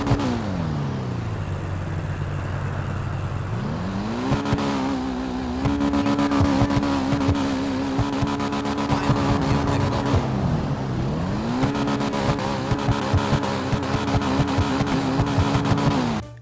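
Manchez Scout motorcycle in GTA Online: the engine idles steadily, then is revved up and down repeatedly, its pitch rising and falling in loud, close sweeps with no talk over it.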